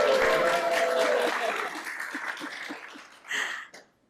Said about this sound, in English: Applause sign, make some noise.